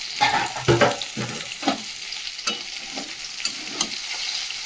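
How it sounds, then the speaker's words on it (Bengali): Bitter gourd and potatoes frying in a pan, heard as a steady close sizzle broken by several sharp stirring scrapes, with no talking. "এদিকে উচ্ছে আলু ভাজাও হচ্ছে।"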